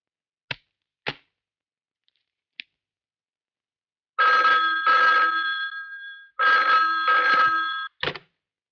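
A telephone bell rings in a 1998 Hindi film scene: a few short faint clicks, then two long loud rings with a brief gap, and a final short burst.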